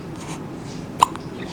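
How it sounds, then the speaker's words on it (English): A single sharp hiccup from a baby who drank formula quickly, heard once near the middle against a low, steady room hum with no talking. "Now she's got the hiccups because she drains the formula so fast."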